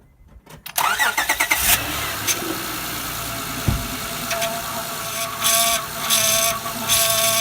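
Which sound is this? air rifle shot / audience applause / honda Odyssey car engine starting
honda Odyssey car engine starting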